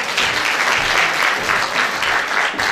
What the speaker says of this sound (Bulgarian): Благодаря ви, господин Апостол, аплодисменти още веднъж.